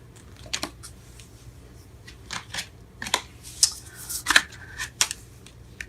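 Tarot cards being shuffled and handled, a series of crisp riffling and slapping bursts, close and fairly quiet, with short pauses between them.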